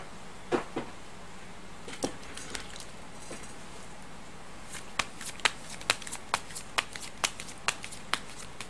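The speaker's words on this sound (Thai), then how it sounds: "เดี๋ยวจะมาเสี่ยงไพ่ดูให้เพิ่มเติม" Tarot cards are handled and shuffled for a daily horoscope reading, first a few scattered soft flicks, then a quicker run of crisp card snaps about every half second toward the end, close and quiet with no talking.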